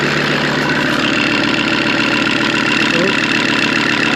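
A car engine idles loudly and steadily nearby with a buzzing, rattly undertone and a continuous rough drone, no voices over it.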